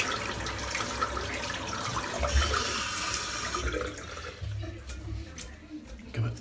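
A shaving brush holding Stirling Eskimo Tuxedo soap is rinsed under running water, a steady close splashing stream that thins toward the end.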